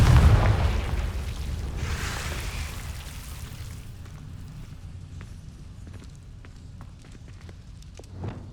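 Confringo blasting spell in Hogwarts Legacy, a loud booming explosion at the start with a second burst around two seconds, decaying into quieter rumbling and light footstep-like clicks.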